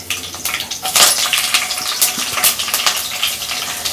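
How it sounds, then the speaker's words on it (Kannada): Mustard seeds crackle and sizzle as they drop into hot oil for a vegetable kurma, a dense, close, steady spatter with sharp popping bursts throughout and no talking. "ಈಗ ಎಣ್ಣೆ ಕಾಯ್ದಿದೆ, ಸಾಸಿವೆ ಹಾಕ್ತಾ ಇದ್ದೀನಿ."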